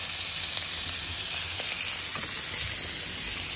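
Quick-cook spaghetti hits a hot pan with a loud, steady sizzle and frying hiss that runs unbroken from start to finish, with no voices over it.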